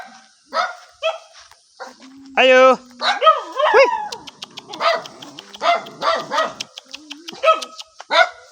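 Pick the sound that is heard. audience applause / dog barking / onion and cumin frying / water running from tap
dog barking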